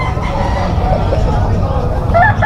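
A gamecock crows and clucks at a busy poultry market in Malabon, its calls rising briefly above constant crowd babble and market noise.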